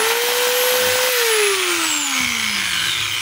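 A DeWalt DWE8100S 4-inch angle grinder runs steadily with a loud, continuous high whine that drops in pitch toward the end as it winds down, with no voices present.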